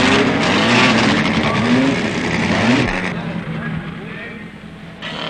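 Formula 3 race cars at the end of a practice session on the Rouen circuit, an engine roaring loudly for about three seconds, then fading into a quieter, more distant drone, with talk over it.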